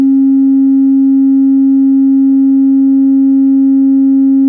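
A 270 Hz test tone plays through a small homemade mini tuba home-theater subwoofer, one steady loud pure hum held the whole time, with faint rattling ticks underneath and no speech.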